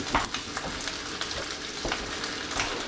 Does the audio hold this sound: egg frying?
yes